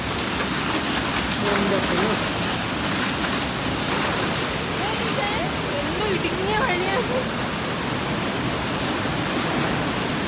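Loud, continuous rush of a waterfall close by in Mid-Wales, with faint voices and birdlike chirps buried underneath.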